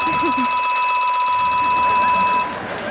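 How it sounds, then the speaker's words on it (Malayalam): Before a stage play at a festival ground, the second bell rings as a loud, continuous electric ringing that holds for over two seconds and then cuts off. "Second bell."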